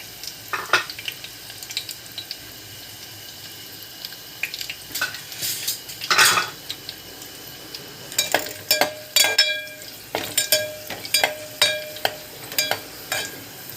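Garlic and coconut fry in a pan under a soft, constant sizzle, while a spatula scrapes and clinks against the metal in irregular close strokes that grow busier toward the end, with no talking.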